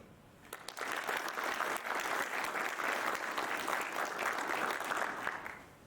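Audience at a military change of command ceremony breaks into a burst of applause that fills the room. Many hands clap densely for about five seconds and then it tapers off.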